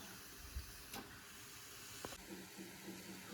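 Washed chicken hits hot masala in a pan for chicken varattiyathu, a soft, steady sizzle with a few light knocks and clatters of a utensil, fairly faint and with no talk.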